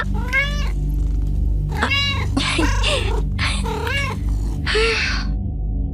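A cat meows repeatedly, five or six drawn-out, wavering cries spaced across the whole stretch, loud and close over a constant low background drone.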